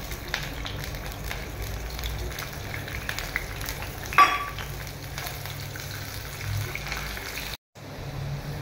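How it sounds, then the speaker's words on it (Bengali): Slices of bitter gourd frying in hot oil in a home kitchen, a soft continuous sizzle and crackle throughout with a brief louder scrape partway and a short dropout near the end. "প্রথমে তেল দিয়ে আমি উচ্ছেটাকে ভেজে নেব"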